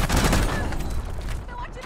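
Video game gunfire with enemies shooting at the player, a loud cluster of rapid shots at the start fading into thinner scattered fire, with faint talk underneath.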